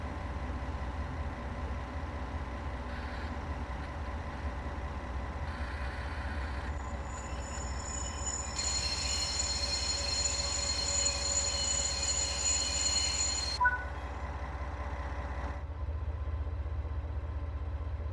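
Simulated train with wagons in a railway simulator game slows to a stop on the train brake, a continuous low rumble joined by a long high brake squeal that cuts off near the end.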